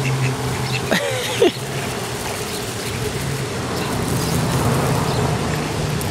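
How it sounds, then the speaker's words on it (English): Ducks quack briefly by the water on Mother's Day, two short calls near the start against steady outdoor background noise, with no one talking. "Oh, look at the ducks."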